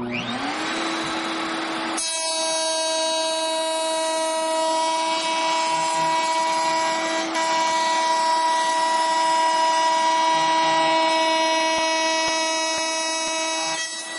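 A handheld router cuts wood along a template pattern with a steady, loud, high whine that holds for about twelve seconds after a brief spin-up, with no talking.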